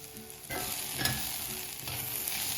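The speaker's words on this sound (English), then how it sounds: "we want to gently saute our spices with everything that's in the pot" Chili, turmeric and coriander powder sauté in a pot for a coconut-tomato soup, a close sizzle that jumps louder with each stir and scrape, brief and without talk.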